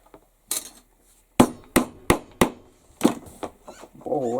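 Hammer striking rivets on a wedge carrier, a series of about eight sharp metallic blows in an uneven rhythm with short pauses, close and loud, ending with a brief bit of background voice.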